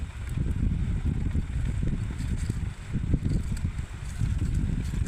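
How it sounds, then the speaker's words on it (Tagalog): Steady low rushing of wind and sea surf at the shore in late afternoon, a continuous rumbling wash that swells and eases slightly, with no voices. "Naririnig nyo yung dagat, presko yung hangin."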